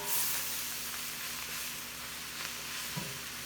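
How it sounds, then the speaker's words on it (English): Cabbage frying in a pan for a Hungarian cabbage and noodles dish gives a soft, steady sizzle with faint stirring, heard close and quiet with no talking. "my cabbage has been cooking for about 15 minutes or so"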